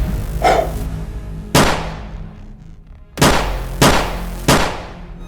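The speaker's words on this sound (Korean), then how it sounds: "총소리." Four loud gunshots ring out at uneven intervals, each a sharp crack trailing into a long echoing decay, the last three coming in quick succession.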